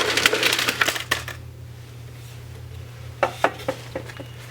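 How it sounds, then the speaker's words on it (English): Powder-coated cast lead bullets for a Lee 358 200 RF mold dumped into a metal basket, a burst of clattering metallic clinks followed by a quiet pause and a few scattered clicks near the end, with no talking. "well-coated bullets, ready to go ahead and dump them into the basket"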